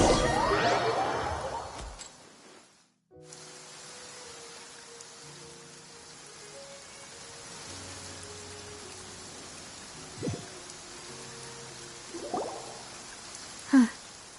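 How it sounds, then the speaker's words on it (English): Rain falls in the video game Genshin Impact as a soft, continuous hiss beneath gentle musical tones, after a brief burst of noise and a moment of silence, with a few splashy accents near the end. "It's been raining non-stop for a few days now."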